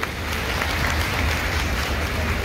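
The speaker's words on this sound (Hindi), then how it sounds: "माहेश्वरी समाज के उन मोतियों के लिए जोरदार तालियां" Loud, dense applause from an audience at a Maheshwari community Diwali program, a steady wash of clapping that holds evenly throughout with no talk over it.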